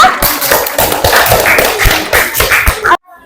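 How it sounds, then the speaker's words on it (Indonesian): A classroom group claps for Nuraida in a burst of fairly loud, quick applause that lasts about three seconds and stops abruptly. "Oke, tepuk tangan untuk Nuraida semuanya."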